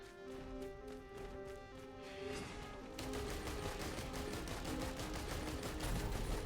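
The Commando in Risk of Rain 2 fires guns nonstop, a steady rapid stream of shots over a droning music bed that grows denser and louder halfway through.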